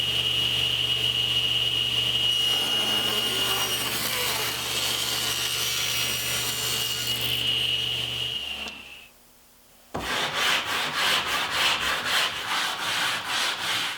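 A table saw with its blade tilted to 15 degrees rips a taper along wooden bed molding, a loud steady whine that drops out near nine seconds, followed by a short gap and then rhythmic scraping strokes.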